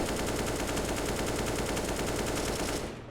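Counter-Strike automatic gunfire: one loud, unbroken burst of rapid shots that lasts about three seconds and then cuts off, with no voices.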